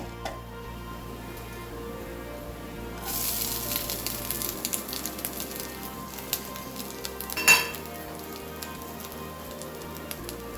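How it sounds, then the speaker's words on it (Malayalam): Grated coconut dropped into a hot frying pan with fried urad dal for chutney, giving a steady close sizzle and crackle with a sharper flare of frying near the end. "ഈ സമയത്ത് നമുക്ക് തേങ്ങ ഇട്ട് കൊടുക്കാം"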